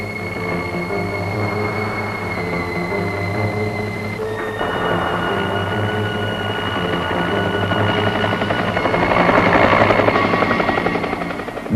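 A helicopter flies over the 1978 Rissa quick clay landslide scarp in the evening, its rotor and turbine drone steady and continuous, growing louder toward the end.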